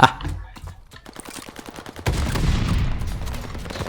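Rapid gunfire rattles in the shooter game Call of Duty: Vanguard, a fast burst of evenly spaced shots followed by a louder, denser wash of game noise.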